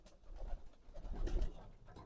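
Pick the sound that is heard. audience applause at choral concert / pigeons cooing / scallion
pigeons cooing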